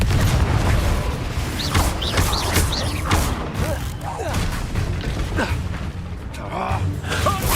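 A Confringo blast spell cast in the Hogwarts Legacy video game, a booming burst within a dense, continuous wash of game combat noise, effects and music, with faint voice-like cries scattered through.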